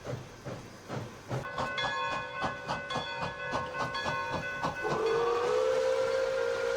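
Pere Marquette 1225, a 1941 Lima Locomotive Works steam locomotive, puffs steadily in rhythmic chuffs before its steam whistle sounds a long, loud, sustained chord, with hissing steam continuing underneath.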